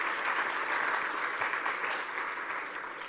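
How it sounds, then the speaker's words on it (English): A round of applause from the audience at the Commonwealth Women's Forum opening session in Kigali, steady and even throughout, heard from a distance and fairly soft. "Can we just give that a round of applause?"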